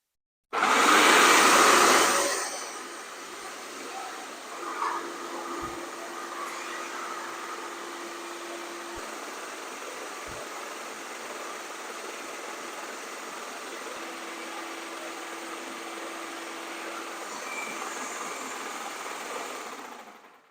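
A Wagner airless paint sprayer pumping clean water during cleaning starts with a loud hissing spray burst, then settles into a long steady motor hum with faint clicks until it stops.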